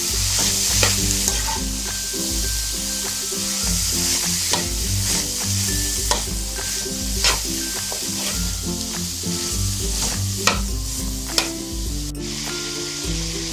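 Beef for lumpia sizzling loudly in a pan with oyster sauce as it is stirred, with repeated spatula scrapes and clacks over steady frying hiss and background music.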